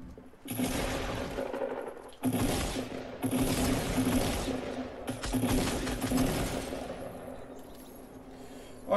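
Gunfire in Fortnite comes in three long, loud bursts of rapid shots, each separated by a short gap, close and dominant with no talk over it.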